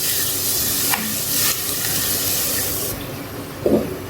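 A spoon stirs watery masala sauce in a pan for achari chicken macaroni, a close continuous sizzle and slosh with a few scraping strokes and a soft clink near the end, and no talking.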